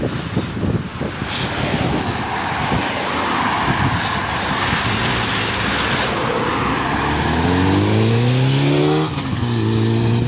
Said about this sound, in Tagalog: Ganda ng motor oh.